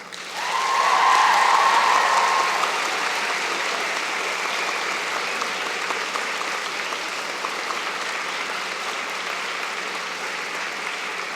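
Sustained applause from a convocation audience honoring graduates, swelling loudly at the start and then holding as a steady, dense wash of clapping from a large crowd.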